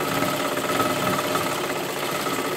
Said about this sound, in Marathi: पूर्ण वरच्या बाजूला शिलाई मारत मारत घ्यायची